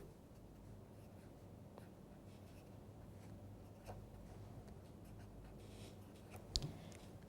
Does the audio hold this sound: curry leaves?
no